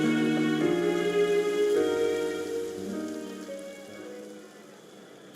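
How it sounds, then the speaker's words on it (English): Steady rain falling in the Genshin Impact video game, a soft continuous patter heard under sustained musical tones that gradually fade. "It rained for longer than I suspected."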